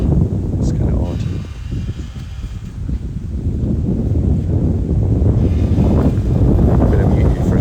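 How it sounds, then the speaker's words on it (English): Heavy wind buffets the microphone in continuous low rumbling gusts, with rustling underneath and faint voices mixed in. "the wind was blowing really, really blowy"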